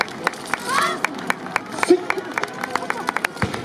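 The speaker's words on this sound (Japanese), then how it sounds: "会場の皆さんにたくさん拍手いただきまして" Audience clapping at an outdoor yosakoi dance festival stage in Soka, a scattered run of claps with crowd murmur and a voice speaking over it.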